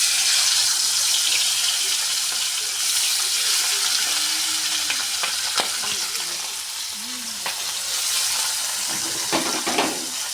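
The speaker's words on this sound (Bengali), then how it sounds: "দেখো, তেল গরম হয়ে গেছে, এবার মাছগুলো দিয়ে দেবো।" Fish frying in hot oil in a wok for a home-cooked meal gives a steady, close, bright sizzle that runs throughout, with occasional stirring clinks and brief crackling pops.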